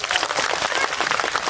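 An audience at a Hindu sammelanam in Viravalli Agraharam, Madugula, breaks into dense, steady clapping. The applause sounds close and fills the whole brief moment, with no voices over it.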